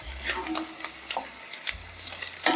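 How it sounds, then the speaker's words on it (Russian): Carrots frying in butter in a pan after onions, for a homemade meat goulash: close, crackling sizzle with several clacking stirs and scrapes of a utensil, no voices. "Добавляю морковь, также ее обжариваю пару минут."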